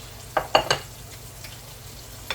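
Onions fry in a pan with a low sizzle, broken by a few quick scraping stirs and one last clack, close and fairly quiet.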